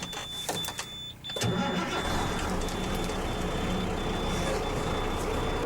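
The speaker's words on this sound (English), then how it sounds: "So start the truck up." A heavy truck's engine cranks and catches during an in-cab CDL brake inspection in New York City, with the spring brakes popped out. A thin steady warning beep sounds first, then a loud, continuous diesel idle rumble takes over and holds.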